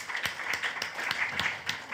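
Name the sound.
audience applause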